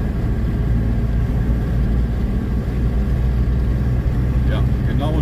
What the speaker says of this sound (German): Mal einmal ein bisschen Gas.